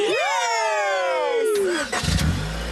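A cartoon car engine starts up with a bright rising whine that sweeps through layered tones, then catches into a rough, rumbling idle, loud and close.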